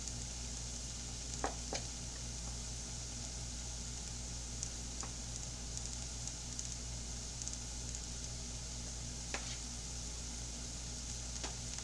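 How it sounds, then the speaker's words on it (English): Onions caramelizing in a hot pan give a soft, even, steady sizzle heard fairly faintly and close, with a few brief clicks and taps over it and no voices. "those onions are going to go from translucent to caramelized in a couple of seconds"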